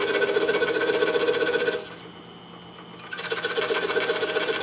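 A scroll saw cuts wood for a windmill project, its rapid reciprocating blade giving a loud, steady buzzing rattle that drops away briefly for about a second before resuming.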